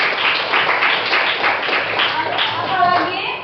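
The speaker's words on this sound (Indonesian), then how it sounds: "Tepuk tangan." A classroom group claps for a student: dense, brisk applause fills the room, close and fairly loud, with a voice speaking over it near the end.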